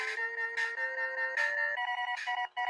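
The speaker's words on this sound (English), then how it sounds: "Phone call." A phone-call ringtone in a Mega Man video game chirps as a bright electronic melody of stepped beeps, repeating in quick bursts with brief gaps and no voices.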